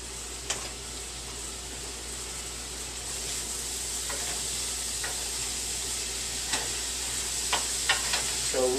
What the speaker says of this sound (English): You want to cook the mushrooms till they have basically turned a dark brown and have absorbed the butter.